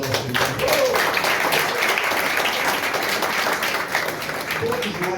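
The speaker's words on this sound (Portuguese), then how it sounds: "Dê uma salva de palmas ao Senhor." A church congregation at a family worship service applauding, a steady mass of clapping lasting several seconds, with voices speaking and calling out over it.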